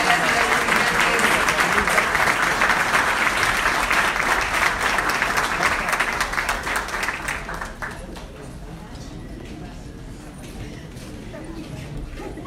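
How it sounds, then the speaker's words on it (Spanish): Loud, dense applause from the audience at a diploma ceremony in the Argentine national Senate, steady for several seconds, then quickly dying away to a low room murmur. "un aplauso final a la ciudad de San Pedro"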